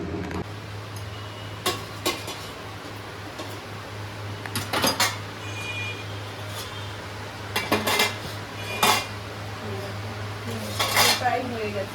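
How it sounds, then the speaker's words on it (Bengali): Lid being set on a cooking pot of soya paneer kofta curry on a stovetop, with several sharp metallic clinks and clatters of the lid and utensils over a steady low hum, while a person talks. "ঢাকা দিয়ে দেওয়া হলো।"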